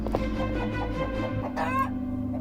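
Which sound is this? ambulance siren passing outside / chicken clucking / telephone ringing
chicken clucking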